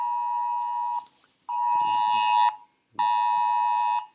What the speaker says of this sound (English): This is my phone doing the Amber Alert.